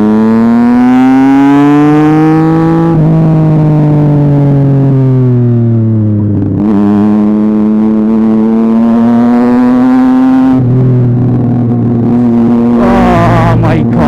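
A Triumph Street Triple 675 motorcycle running with no exhaust, close and very loud: the engine revs and drops steadily, then a sharp dip marks a hard downshift before it climbs again, with a raw, rasping tone.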